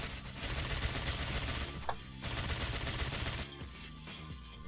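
Dense bursts of rapid gunfire from the video game Alien Shooter 2: The Legend, loud and continuous, with a short pause before the shooting resumes.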